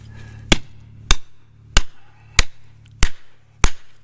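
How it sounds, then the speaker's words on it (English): A sledgehammer strikes a chisel to break rock at a lode gold mine, six sharp ringing metallic blows landing at an even, unhurried pace, close and loud, over a low steady hum. "Got the pry bar, chisel, and sledge, so let's break into it."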